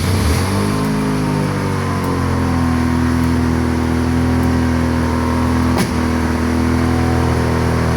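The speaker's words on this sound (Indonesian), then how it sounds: "Oke, ini mesin udah hidup" A car engine idles steadily after being started, a close, continuous low hum with stable tones, heard alone with no talk for about eight seconds.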